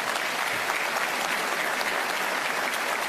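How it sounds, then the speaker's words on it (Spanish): Sustained applause fills the Congress in Asunción, Paraguay, during a presidential state address: a dense, even wash of many hands clapping, loud and continuous throughout. "le decimos gracias y le aplaudimos."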